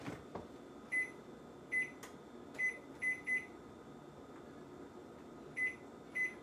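A kitchen microwave oven hums quietly and steadily while sharp electronic beeps sound alone or in quick pairs, about seven in all, spaced irregularly across the stretch.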